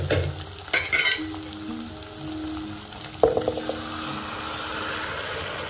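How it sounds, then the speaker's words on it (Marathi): Cumin seeds and asafoetida fry in oil for dhaba-style palak paneer, making a steady moderate sizzle with a few stirring clatters and occasional bubbling, and no voices. "हिंग आपण ऍड केलेलं आहे, आपण बघा जिरे पण ऍड केलेले आहेत आणि फ्राय करून घ्यायचा"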